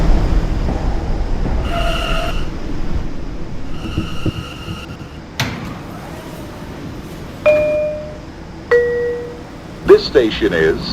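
An E line subway train rumbles through a station, with a steady low roar, repeated electronic door-chime tones and a few sharp metallic squeals and clanks toward the end.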